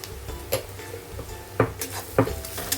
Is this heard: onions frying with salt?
yes